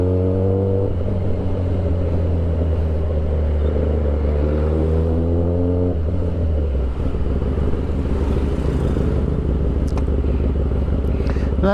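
A motorcycle engine drones steadily while riding on a drizzly day, a loud close hum that shifts gear and rises in pitch about halfway through.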